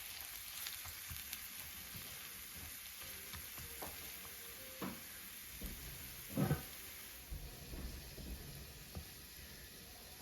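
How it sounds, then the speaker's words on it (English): Onions, garlic and peppers sautéing in olive oil in a pan, a steady close sizzle with occasional louder pops and stirring clatters, no talking. "Sauté until the onion becomes translucent."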